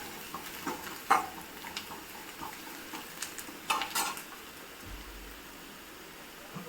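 Turmeric being stirred into fried onions in a pan, a soft sizzle under scattered scraping and tapping of a spoon against the pan, fairly quiet, with no talk.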